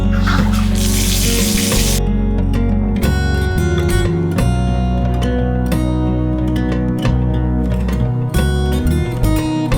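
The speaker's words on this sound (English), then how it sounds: "we're gonna go draw a nice bath for the rest of the night" Water from a tap pours steadily and loudly into a bathtub as it fills for an evening bath, a continuous close rushing splash that carries on alone with no voices.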